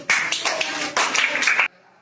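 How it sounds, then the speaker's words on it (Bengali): Children in a fifth-grade classroom burst into loud clapping, two close, dense rounds of hand claps that stop abruptly, with no one talking over them. "জোরে একটা করতালি।"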